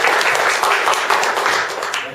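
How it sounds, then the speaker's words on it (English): An audience at a sparkling wine sustainability summit applauds, a continuous wash of clapping that holds steady and then begins to taper off toward the end. "Round of applause, come on."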